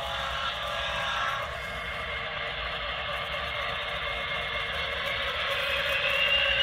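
A model train locomotive engine runs steadily with a continuous close rumble and hiss, no voices over it.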